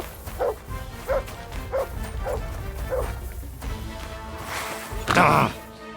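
A dog in the video game Kingdom Come: Deliverance 2 gives a run of five evenly spaced barks, then a louder yip near the end, over a steady game ambience.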